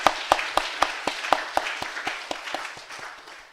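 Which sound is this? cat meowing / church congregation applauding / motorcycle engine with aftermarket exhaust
church congregation applauding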